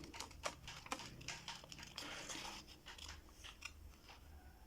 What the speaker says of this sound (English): If you want to cut on the outline, you can cut.